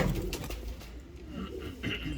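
Gol yaş pigeons in a coop give soft, low cooing calls, close and moderately loud over a steady background hum, with brief brighter chirps scattered through.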